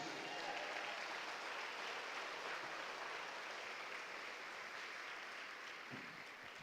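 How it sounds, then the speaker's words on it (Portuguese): A church congregation at a Portuguese-language evangelical worship service applauds steadily throughout, a dense, even wash of many hands clapping at fairly low volume. "Glória a Deus, aplauda Jesus."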